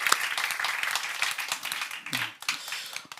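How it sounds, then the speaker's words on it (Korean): A church congregation claps in welcome during Sunday worship, a dense patter of applause with a voice speaking briefly over it near the middle. "우리 박수로 한번 환영하겠습니다."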